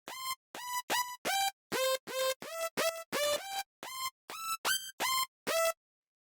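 Bright synth lead playing a simple happy, poppy melody for a PC Music-style EDM track, a series of about a dozen short staccato notes with pitch changes and clean gaps, ending in silence.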